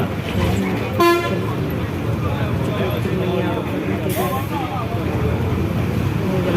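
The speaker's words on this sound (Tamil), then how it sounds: "local bus" A local bus at the Puducherry bus station gives one short horn toot amid busy station noise and engine rumble, with people talking throughout.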